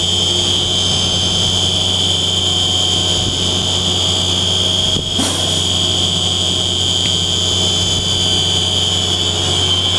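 An overload warning alarm on a CAT 324 hi-rail excavator sounds as a continuous high, steady tone over the machine's loud engine drone throughout.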